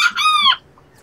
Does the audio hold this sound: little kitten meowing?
no